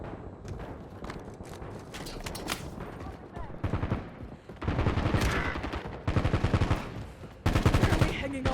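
Rapid bursts of automatic gunfire crackle in the Warzone video game, with sharp repeated volleys growing louder toward the end, mixed with in-game voice callouts and background battle noise.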